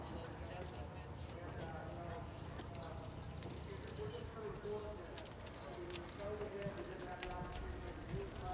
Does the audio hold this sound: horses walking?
yes